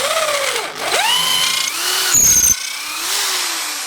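A Black and Decker KR705K hammer drill bores into oak at high speed, its motor whining close and loud with pitch sagging under load, then cutting off briefly before spinning back up.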